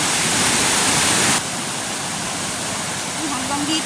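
Strong floodwater rushes loudly down the Piñan river in a dense, roaring wash. It shifts slightly in level partway through and stays continuous and close.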